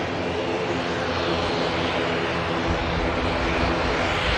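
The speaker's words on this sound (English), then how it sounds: "the KLM from Amsterdam next to land behind it" A KLM passenger jet from Amsterdam on its landing approach at Manchester Airport gives a steady, loud, broad engine roar that holds constant throughout with no voices.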